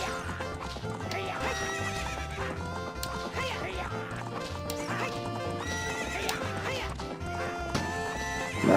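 A horse in Zelda: Ocarina of Time gallops with quick rhythmic clip-clop hoofbeats and lets out whinnying neighs, all set against continuous, busy game music.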